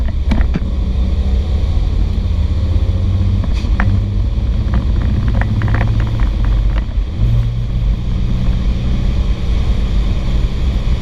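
A Studebaker pure stock muscle car with a four-speed shifter conversion races down the drag strip at Stanton, a loud continuous engine roar with gear changes, heavy wind buffeting the microphone throughout.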